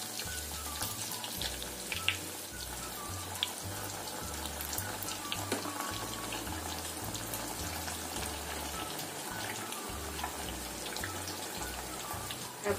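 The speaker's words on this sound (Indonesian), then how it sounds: "Ini kita goreng sampai kuning keemasan." Sausages deep-fry in plenty of hot oil, giving a constant close crackling and sizzling with fine popping bursts and no talk.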